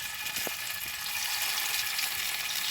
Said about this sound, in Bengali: এরপর একে একে ফ্রাই করার জন্য বড়াগুলো দিয়ে দেবেন।